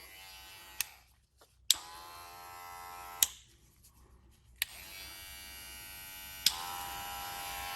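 An OVLUX budget hair clipper runs very quietly, a faint electric buzz switched on and off in several bursts with sharp clicks at each start, close up with no talk.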